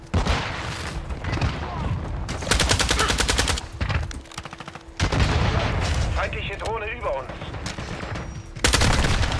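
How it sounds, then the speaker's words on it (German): Burst-fire weapon in Call of Duty: Modern Warfare II multiplayer, firing loud repeated three-round volleys across the clip, with a voice talking between bursts. "Das Ding hat nämlich verdammt tödliche Salven"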